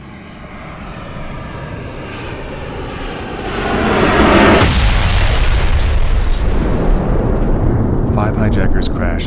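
A loud airliner roar builds into a heavy booming explosion for a dramatized American Airlines Flight 77 crash into the Pentagon, then a sustained rumbling aftermath with a sharp crackle near the end.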